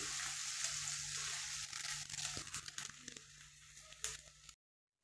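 Taro (colocasia) pieces roasting uncovered in a pan with asafoetida, giving a steady close crackling sizzle with scattered pops and crinkles that fades out near the end.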